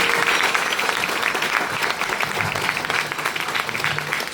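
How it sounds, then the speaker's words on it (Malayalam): An audience at a meeting in Malappuram applauds Sadiq sir: loud, dense, continuous clapping from a large crowd nearby that holds steady for several seconds. "നല്ല ക്ലാപ്പ് കൊടുക്കാമോ?"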